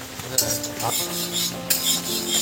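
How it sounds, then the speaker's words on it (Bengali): Mung dal is stirred in an iron wok, with a soft scraping of the spoon, a few sharp metallic clinks against the pan and a faint sizzle underneath. "লোহার কড়াইতে মুগের ডাল রয়েছে এখন"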